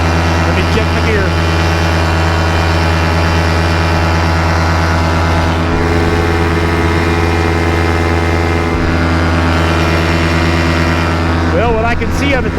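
A light aircraft engine drones loudly and steadily in flight, a constant close hum with strong low tones filling the whole stretch and no break.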